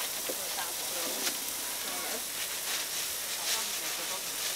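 A US beef patty on a street food truck griddle in Taipei gives off a soft, steady sizzling hiss, with faint talk in the background.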